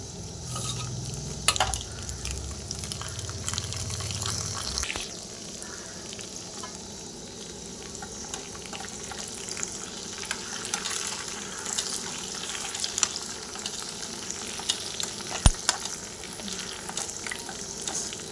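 Dried red chillies, cumin and mustard seeds fry in hot oil for a drumstick dal tempering, making a continuous close sizzle with scattered sharp pops and no talking.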